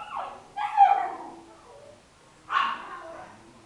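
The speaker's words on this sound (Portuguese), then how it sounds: "A Florzinha é uma cachorra que ficava lá embaixo" A female dog with anemia whimpers and whines in a few short, close vocal bursts separated by a pause, in a quiet indoor setting.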